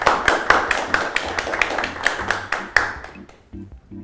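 Applause from a live studio audience greeting a guest on a talk show, a dense patter of hands clapping steadily for about three seconds before thinning out and stopping, with faint low murmurs underneath.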